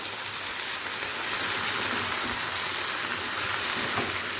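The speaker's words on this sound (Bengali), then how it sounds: "মশলার সাথে এঁচোড়টা দু মিনিট কষানো হয়ে গেছে এরপর দিয়ে দেব গরম জল" Hot water hits spiced jackfruit curry frying in a pan, giving a loud, steady, even hiss of sizzling and bubbling that stays constant throughout.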